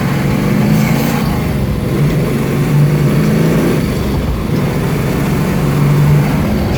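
A 1969 Ford Mustang Mach 1 with an R-code Cobra Jet engine, an original survivor car, runs loud and close with a steady low rumble and a few swelling revs, no talk over it.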